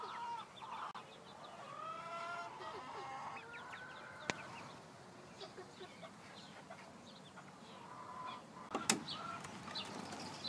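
Backyard chickens clucking in a coop area, several hens giving soft overlapping clucks and murmurs, close and fairly quiet, with a couple of brief clanks in the background.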